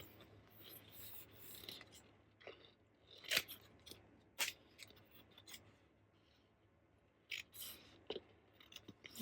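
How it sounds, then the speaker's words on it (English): Scissors cutting out pieces of Cricut vinyl, close quiet snips and rustling with a few sharper cuts spaced irregularly, no talking. "I'm going to cut these out."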